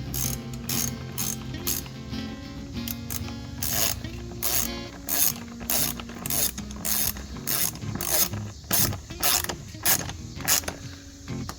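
A hand ratchet tightens a hose clamp on the airbox of a 2018 Mini F57, a crisp close clicking in short repeated strokes with brief pauses between them.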